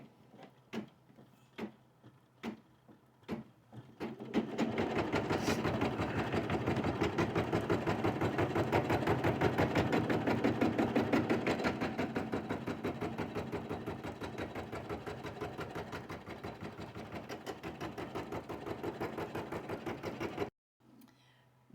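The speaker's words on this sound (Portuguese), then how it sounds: "a máquina vai fazer aqui o matelassê" A sewing machine stitches quilted matelassê fabric, running in a steady, loud, continuous whir for about sixteen seconds after a few separate clicks and short starts, then stopping abruptly.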